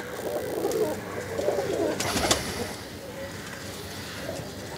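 Pigeons in a loft coo softly with low, rolling throaty calls, a few birds close by against a busy background, while someone talks intermittently over them.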